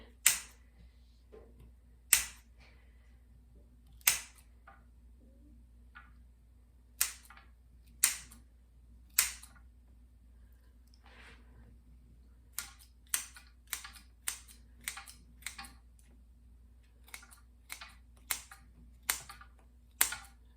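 Crisp, sharp snips of bandage scissors cutting dried mullein leaves, spaced out at first, then quicker and more clustered toward the end, close up with no talking.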